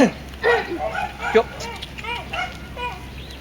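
A dog barks a few times at a distance, mixed in with children's voices calling and chattering nearby.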